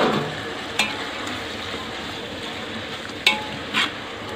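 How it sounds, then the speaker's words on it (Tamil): Vegetables with ginger-garlic-green chilli paste sautéing in oil for egg and vegetable biryani, a steady close sizzle broken by a few sharp spoon scrapes against the pan. "காய் நல்லா வதங்கணும், ஏன்னா எண்ணெயிலே காயெல்லாம் நல்லா வேகணும்"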